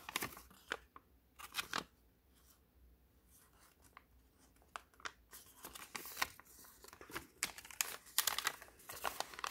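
Colored origami paper is creased and folded close up, with crisp crinkles and sharp rustling bursts separated by quiet pauses, growing busier and louder toward the end.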